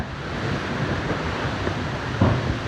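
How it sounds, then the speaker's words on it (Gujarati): A strong windstorm roars without letup in Motajijuda village near Savarkundla, a dense, steady rush of gusting air battering close to the microphone. "બહુ વાવાઝોડું છે પવન સાથે"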